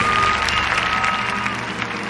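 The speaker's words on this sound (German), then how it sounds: "Mit Jubel wird er empfangen." A crowd applauding and cheering in welcome for King Ernst August of Hanover, a steady mass of clapping and murmur at moderate level, slightly fading toward the end, with a faint held tone running through.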